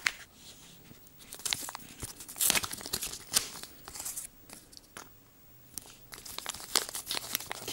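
Plastic packaging of a Robinson Racing slipper clutch for an RC car being torn open, with close, crinkly tearing and crumpling bursts and sharp rips over several seconds, no talk.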